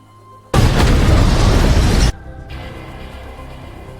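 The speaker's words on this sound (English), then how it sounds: "when the man came out, there was a huge explosion" A sudden, loud explosion erupts into a roaring broadband blast that lasts over a second, then drops to a lingering rumble and hiss.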